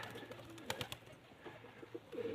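Pigeons cooing nearby, a few low throaty coos and soft calls over a quiet background with some faint knocks.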